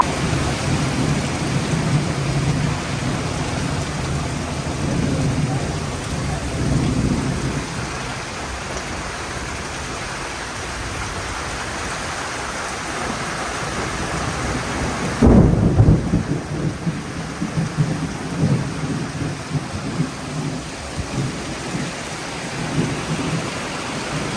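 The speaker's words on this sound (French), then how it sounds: "on a de la pluie, de la très grosse pluie" Heavy rain pours in a steady, dense hiss, with low rumbles of thunder rolling underneath and a sharper, louder crack of thunder partway through; no voices are heard.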